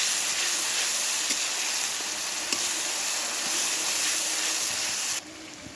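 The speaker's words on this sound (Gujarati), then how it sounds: "પછી આપણે કાંદો નાખશું। અને હવે એને બરાબર મિક્સ કરી લઈશું।" Chopped onion hits hot oil with asafoetida in a pan and is stirred, a steady loud close sizzle throughout with a couple of faint spoon taps, dropping suddenly quieter near the end.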